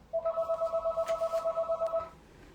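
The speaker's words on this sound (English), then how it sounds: "Sorry for the phone interruption." A telephone rings with a rapid, evenly pulsed electronic trill, about a dozen quick beats in one steady burst lasting around two seconds, clear and fairly close against a quiet room, then stops.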